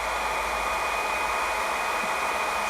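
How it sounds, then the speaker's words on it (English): A HiKOKI 18V cordless heat gun blows steadily, a constant hairdryer-like rush of air with a faint thin tone running through it, loud and uninterrupted. "Sounds like a weak hairdryer."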